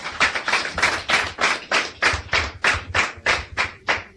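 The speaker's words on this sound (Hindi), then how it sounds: "ताली बजाने इनके लिए।" An audience at a networking seminar claps in steady, rhythmic unison, loud and near, with about fifteen even beats and no talk.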